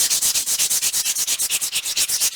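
Brisk back-and-forth rasping of a fine-grit sanding block on a surface, about twenty quick even strokes in a steady rhythm, close and clear.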